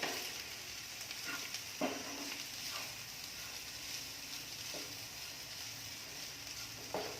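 Chicken and masala filling for chicken rolls sizzles steadily in a hot pan, with a few sharp scraping clicks of a spoon stirring through it.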